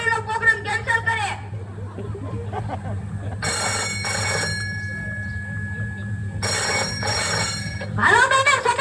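A telephone rings in two loud, buzzing bursts during an indoor comedy sketch, with people talking before and after the rings.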